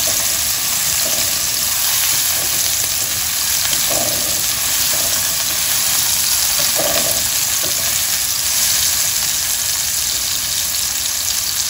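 Ingredients for Thai basil fried rice sautéing in a hot pan, a loud, steady close-up sizzle with occasional soft stirring knocks, no voices.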